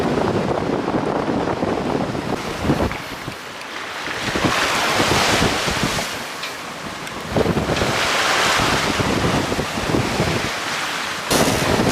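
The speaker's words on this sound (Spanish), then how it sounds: "tenemos un viento que nos sopla de este lado para acá" Strong wind rushes over open sea aboard a sailboat during a storm crossing, a loud, continuous roar that swells and eases in gusts, mixed with the wash of surf and waves.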